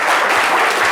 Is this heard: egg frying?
no